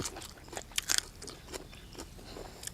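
Crisp crunching bites of fresh squid, several quick crackly chews close to the mic, with short pauses between them.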